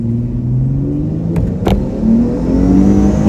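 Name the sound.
supercharged V6 car launching and accelerating hard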